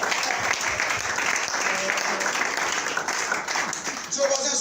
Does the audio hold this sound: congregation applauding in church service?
yes